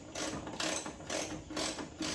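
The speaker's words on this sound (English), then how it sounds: "we're gonna have to use a 1/2-inch socket for this to loosen up all these bolts" A hand ratchet fitted with a 1/2-inch socket loosens bolts on a Jeep Wrangler JL, giving several quick bursts of rapid clicking in a steady back-and-forth rhythm, close and clear with no talking.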